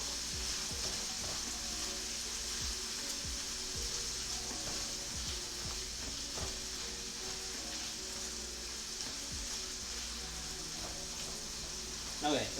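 Ground beef fries in a pan for curry-spiced rice, giving a steady, close sizzle with occasional stirring scrapes throughout.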